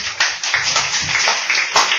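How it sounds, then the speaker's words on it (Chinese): Students in a classroom clap together briefly, a short burst of scattered hand claps at moderate volume with a few sharper claps standing out. "大家鼓掌一下呢"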